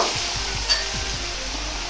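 Pre-cooked cabbage stir-fried in a hot pan for light browning, a steady sizzle with several quick scraping stir strokes repeating at an uneven rhythm, close and clear with no talk.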